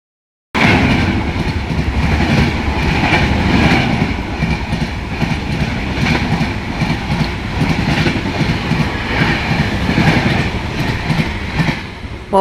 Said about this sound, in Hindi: Crossing Pawan express.